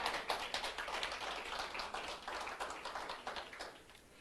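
A church congregation applauding, dense clapping from many hands that keeps up steadily for a few seconds at moderate volume and sounds a little distant.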